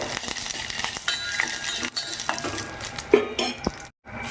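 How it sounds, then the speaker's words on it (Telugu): Cashews fry in a spoonful of ghee with a soft, steady crackle close by, punctuated by sharp metallic clinks and scrapes of a spoon against the pan, then a brief silence near the end. "నెయ్యి వేస్తున్నాను. దాంట్లోకి కొంచెం జీడిపప్పు, ఇది కొంచెం ఎర్రగా రావాలి."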